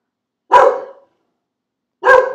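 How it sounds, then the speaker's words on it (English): Two loud, close dog barks spaced about a second and a half apart, with clean silence between them and no talking, sounding from outside a home kitchen. "Someone must be walking a dog by."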